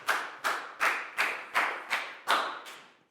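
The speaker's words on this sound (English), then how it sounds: "High five and a big round of applause for Bangpon." A classroom of students claps for a student, with eight sharp, evenly spaced bursts of clapping in a steady, near rhythm.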